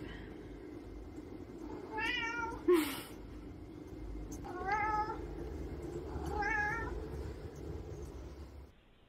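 A cat meows three times on a played cat video, clear harmonic cries spaced about two seconds apart over faint background noise, with a brief thump between the first two calls.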